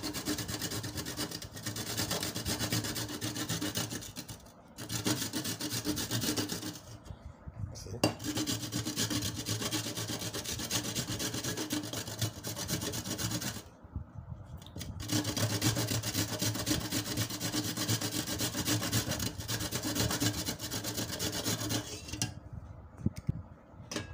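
Bitter kola nuts grated by hand on a grater, a close, continuous rhythmic rasping scrape in long strokes with a few brief pauses, no voices.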